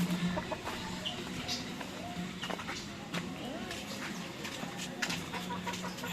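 Domestic hen, the original breeding hen of an inbred and linebred flock, clucking intermittently amid a busy farmyard with other chickens, under ongoing talk from a person nearby.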